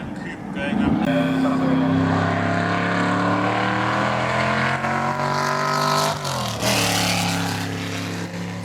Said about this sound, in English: seeing the Daytona Coupe going up there